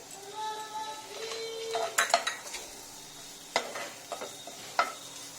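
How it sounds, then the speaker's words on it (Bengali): Ginger paste frying with mushrooms in a pan, a faint sizzle broken by several sharp metal spoon clinks and scrapes against the pan, plus a brief whistling tone early on. "ভাজতে ভাজতে এর মধ্যে আমি আদা বাটাটা দিয়ে দিলাম"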